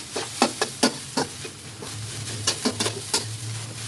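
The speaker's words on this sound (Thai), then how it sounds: "แล้วก็ผัดเลยจ้ะ" Brown jasmine rice being stir-fried with pork and duck egg in a pan, with a low sizzle under a series of sharp spatula scrapes and knocks, irregular and close, without any talk.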